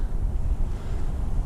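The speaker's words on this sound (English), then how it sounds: "Pardon the wind there" Wind buffets a microphone outdoors, a continuous low rumbling roar that stays loud and steady throughout with no other clear sounds or speech.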